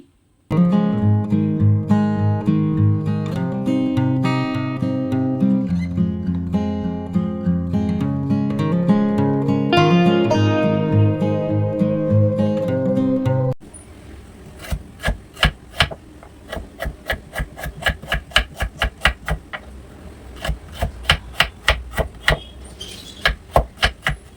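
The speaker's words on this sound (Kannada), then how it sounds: "ಅಷ್ಟರಲ್ಲಿ ಬೀಟ್ರೂಟನ್ನು ಕಟ್ ಮಾಡ್ಕೊಳ್ಳೋಣ." A knife chops beetroot on a cutting board, with steady rhythmic knocks that come fast and close after a stretch of music.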